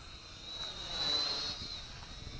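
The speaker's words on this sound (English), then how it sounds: "I did want to like this quadcopter because it looks real cool. And now it flies real cool." A Syma micro quadcopter on a small 350 mAh battery flies with a faint, thin, high-pitched whine that swells briefly and then fades slightly, heard alone.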